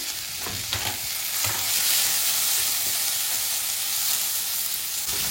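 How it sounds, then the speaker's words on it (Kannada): Jackfruit pieces frying in ghee over a low flame give a steady, loud sizzle with a few stirring scrapes early on, and no one speaks. "ಗ್ಯಾಸ್ ಆದಷ್ಟು ಲೋ ಫ್ಲೇಮಲ್ಲಿ ಇಟ್ಕೊಂಡು ಹುರಿರಿ"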